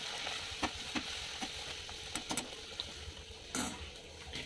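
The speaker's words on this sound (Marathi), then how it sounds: "चला मग पुऱ्या तळून घेऊयात." Puris deep-frying in hot oil, a dense continuous sizzle close by with occasional sharper crackles and spatters, no talking.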